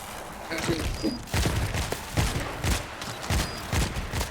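Bursts of gunfire sound in the zombie shooter video game World War Z, coming as a rapid series of sharp, repeated volleys at moderate loudness while players talk over them.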